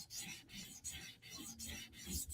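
Shaman knife blade with PVD coating being sharpened to a mirror polish, giving steady rasping strokes repeated about every 0.35 seconds, close and fairly quiet, with no talking.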